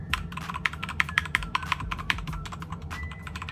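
Quick, uneven typing on a cheap mechanical keyboard with Cherry MX Red-style linear switches, the sharp keystroke clacks rapid and close, heard alone over a faint room hiss.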